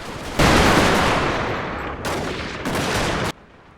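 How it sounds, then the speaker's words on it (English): Massed musket volleys from muzzle-loading infantry in Napoleon: Total War roar out as one dense, loud burst of gunfire lasting most of the clip, briefly dipping and swelling again in two more waves before cutting off sharply. "I'm using my muzzle-loading infantry units to fire on the southern boys on these artillery units"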